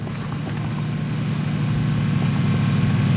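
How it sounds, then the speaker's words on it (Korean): A vehicle engine drones steadily in PLAYERUNKNOWN'S BATTLEGROUNDS, a constant low rumbling hum at moderate loudness with no voices over it. "차 소리."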